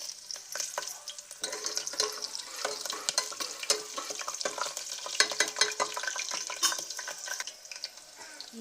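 Green chillies hit hot oil with biryani masala for a vegetable biryani, giving a steady close sizzle broken by frequent scraping stirs of a spoon in the pan.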